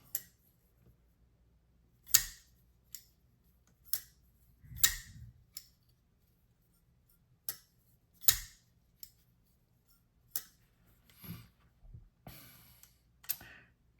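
Sharp, isolated metallic clicks of a titanium Kizer Doberman folding knife mechanism snapping like scissors, spaced irregularly with quiet gaps, close and crisp.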